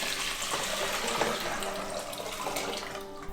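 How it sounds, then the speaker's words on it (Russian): Tap water runs steadily into a cooking pot with a ceramic plate at its bottom, a continuous close hiss and splash of filling lasting throughout. "И заливаем водой."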